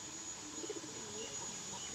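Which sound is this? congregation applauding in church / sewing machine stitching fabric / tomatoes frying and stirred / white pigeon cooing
white pigeon cooing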